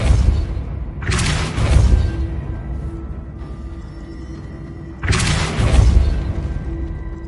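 Spell effects in the Hogwarts Legacy video game: two loud booming magical bursts with rumbling, crackling tails, separated by a quieter hum of ambient game sound.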